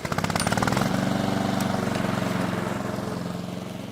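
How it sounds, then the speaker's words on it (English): A gasoline-powered lawn mower runs at a steady pace, its small engine chugging in a fast, even rhythm. The sound is moderately loud and close, with no voices. "It was followed by a steam mower and then a gasoline-powered mower"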